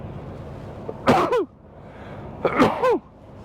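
Two sharp sneezes about a second and a half apart, each a quick inhale followed by a loud burst, close by against a quiet room.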